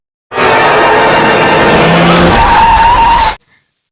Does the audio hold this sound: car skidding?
yes